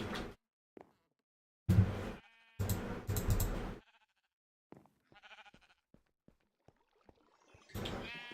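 Sheep in the Minecraft modpack Agrarian Skies bleat in several loud, wavering blocky game calls, separated by silences and faint clicks.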